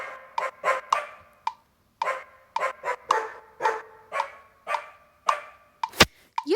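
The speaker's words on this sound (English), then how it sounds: "Bark." A sampled dog bark effect in GarageBand repeats as a string of sharp, close barks in irregular short bursts, followed by a brief loud click near the end.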